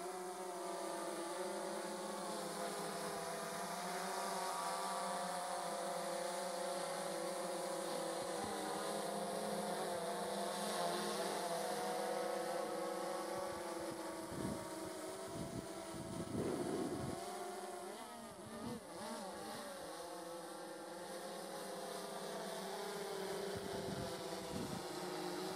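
DJI S1000 multirotor drone lifting off and flying, its motors giving a steady, loud, buzzing whine that holds close throughout with shifting pitch as it maneuvers.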